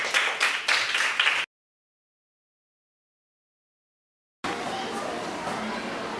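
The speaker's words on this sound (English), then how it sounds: "shall we give a round of applause for each one of us and to the speakers before they'll start." Clapping at a school science debate, heard as a few sharp claps and voices at the start, then a stretch of dead silence, then steady applause returning near the end.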